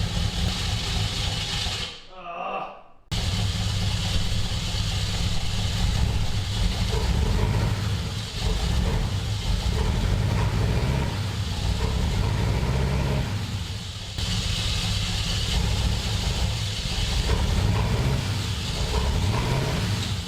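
A long-idle Grand Wagoneer that had sat seized for years idles close by and is shifted into drive. The engine drops out briefly near the start, then a steady low rumble continues with slight load changes as the transmission engages.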